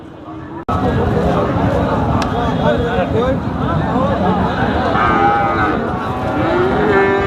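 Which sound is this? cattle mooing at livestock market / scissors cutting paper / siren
cattle mooing at livestock market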